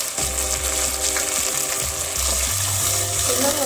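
Potatoes and peas frying with onions and whole black pepper in a pan, a steady close sizzle with scraping and light stirring clatter throughout, no voices.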